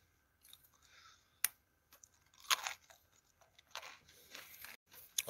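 Crunching and chewing of nude Pepero snack sticks up close, with sharp bites and irregular crunches among quieter chewing sounds.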